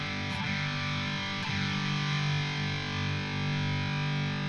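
Electric guitar played through a Garnet Herzog distortion pedal, drive set at noon, tone just past noon and output near one o'clock: two sharp strummed attacks ring into a thick, sustained, saturated chord, loud and alone.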